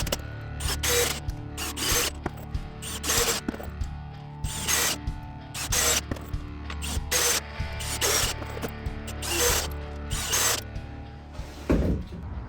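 Screws driven into a plywood subfloor in a bathroom framing job, heard as a run of repeated loud bursts from a power driver, roughly a dozen short pulses spread evenly, with ratcheting clicks between them and no talk.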